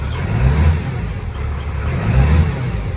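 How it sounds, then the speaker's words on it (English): A deep, rumbling 5th-generation Cummins diesel truck engine revs up and eases off twice, loud and close, with no voices. "Let's go ahead and hit some throttle."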